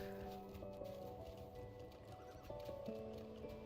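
Horse gallops in Lord of the Rings Online set in Harad, steady clip-clop hoofbeats with occasional snorts and a whinny over layered game ambience and music, moderately loud and continuous.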